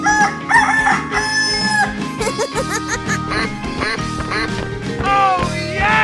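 Cartoonish chicken clucks and crowing from a 3D animal sliding-race video game, mixed with bright, busy game music and duck-like quacks in a loud, continuous stream.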